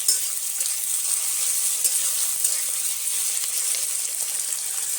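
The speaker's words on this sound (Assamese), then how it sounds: "বিলাহী লৈছো এতিয়া ধুনীয়াকৈ মই ফ্ৰাই কৰি আছো" Tomatoes fry in a pan with a steady, close hiss of sizzling oil, bright and continuous with faint crackles and no voices.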